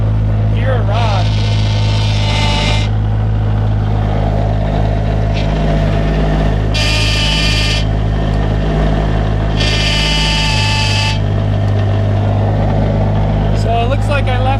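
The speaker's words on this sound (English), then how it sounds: "now causing the reverse gear to grind on itself" Reverse gear grinding inside the transmission of a car fitted with a dog box, a steady loud mechanical drone with repeated rough bursts of grinding, running under engine noise throughout.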